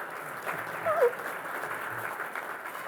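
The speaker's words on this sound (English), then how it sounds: "Yeah, extra clap." An audience at the 79th Annual Reuben Awards gives sponsors a round of applause, a soft, steady patter of clapping heard from some distance in a hall.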